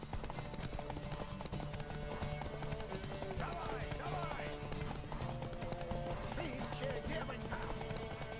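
Horse hooves clip-clop in a steady rhythm while riding through The Witcher 3, a continuous trotting under game music and ambient sound, with a voice speaking over it.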